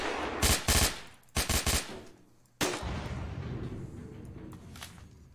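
Gunfire in the video game Masked Shooter 2: two short, loud automatic bursts, then a single heavy shot whose rumble trails off into lingering background noise.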